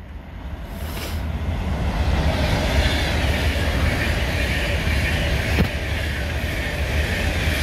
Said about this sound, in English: Comes a train now.